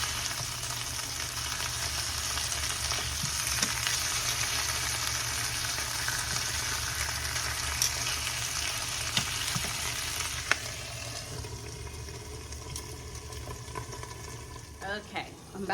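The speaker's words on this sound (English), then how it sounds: "And then we'll flip them over and cook the other side so that skin's nice and crisp." Skin-on pieces searing in a hot pan, a loud steady sizzle and crackle that eases slightly toward the end with a few faint clicks, close and continuous with no clear talking.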